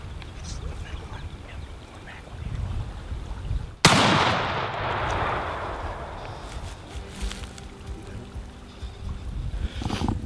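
A single sharp, loud shotgun blast cracks out in open air, followed by a long fading echo over faint outdoor background noise.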